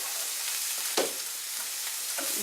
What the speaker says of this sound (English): Yes, sizzle that bacon.